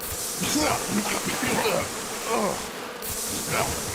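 A swarm of bees buzzes loudly and continuously, the droning hum swelling and fading slightly as insects move nearby.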